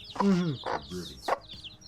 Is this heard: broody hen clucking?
yes